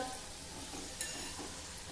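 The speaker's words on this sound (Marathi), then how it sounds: "आता मंद आचेवर ह्या वड्या आपल्याला छान खमंग होईपर्यंत तळायच्या आहे." Pudachi vadi rolls, a Nagpur-style savoury snack, frying slowly in oil over a low flame, giving a steady soft sizzle and crackle throughout with no voices.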